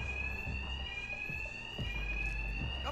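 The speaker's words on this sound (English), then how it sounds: "these thugs can't hear a thing over the alarms" Alarms blare continuously in the Batman Arkham Knight video game, a loud steady tone with thumping impacts and game sounds underneath, with no talk.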